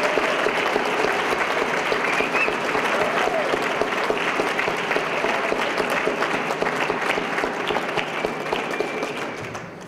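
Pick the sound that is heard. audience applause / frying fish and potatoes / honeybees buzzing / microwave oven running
audience applause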